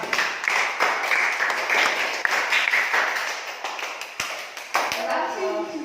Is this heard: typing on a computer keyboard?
no